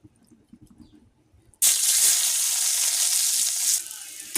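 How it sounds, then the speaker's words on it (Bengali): Bitter gourd hits hot oil with a sudden loud sizzle that stays steady and close for a couple of seconds, then eases off slightly, following quiet kitchen clatter before the frying starts. "এই যে উচ্ছেটা ভেজে নিব সবগুলোকে দিয়ে দিব"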